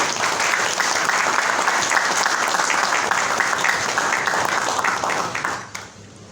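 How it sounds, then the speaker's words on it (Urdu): Sustained audience applause in a hall fills the stretch steadily, dense clapping at full strength before tapering off toward the end. "آپ کی بھرپور تالیوں میں"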